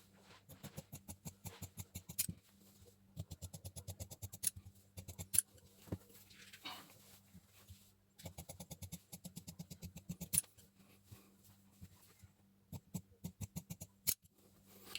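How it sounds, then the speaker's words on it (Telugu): Scissors cutting blouse fabric along marked lines, with quick runs of crisp snipping in bursts separated by short pauses, close and quiet with no talking. "మార్కింగ్ అయిపోయింది కాబట్టి దీన్ని కటింగ్ చేసుకుందాం."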